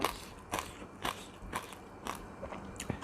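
Someone bites into crisp luk niang (jering) fruits, producing about six sharp crunchy bites spaced roughly half a second apart, close and fairly quiet, with chewing and faint scraping between them.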